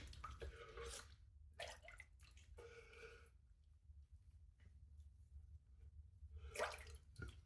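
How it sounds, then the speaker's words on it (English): Splashes of water rinsing the face after shaving come in several short, close bursts separated by quiet gaps, with a louder splash near the end over a faint low background hum. "pass number 2, we're going to rinse the face."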